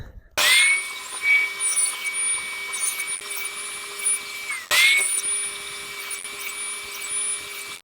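A power saw cuts wood to shape a tenon for a desk, two high whining passes, each starting abruptly and running steadily for several seconds, fairly close and moderately loud.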